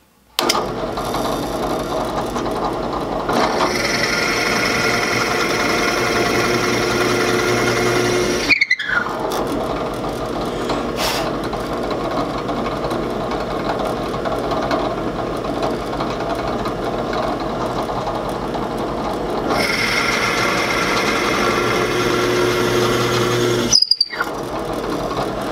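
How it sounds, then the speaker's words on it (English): A drill boring dowel holes in wood for a Stickley bed-to-bench build, two long loud whining runs separated by brief stops, motor pitch rising and falling as the bit cuts. "And we'll just drill the holes now."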